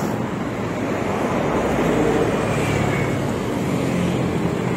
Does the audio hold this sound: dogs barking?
no